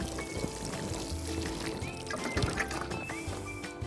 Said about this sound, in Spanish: Ahora vamos a pasar al riego.